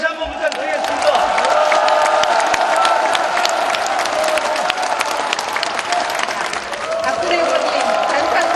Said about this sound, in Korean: 박근혜 대통령 후보님께 큰 박수로 다시 한번 부탁드리겠습니다